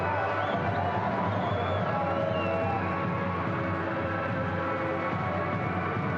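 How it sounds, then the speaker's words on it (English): A home crowd in a football stadium during a Saudi league match, Al Nassr versus Al Hazm, a dense, constant roar of many voices and chants from the stands, steady and fairly loud with no breaks. "Great support in the stands from the home crowd."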